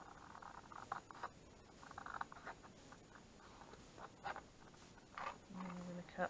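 Material for a box frame being cut by hand: faint, close scratchy strokes in short irregular bursts, with quiet gaps between them and no clear speech.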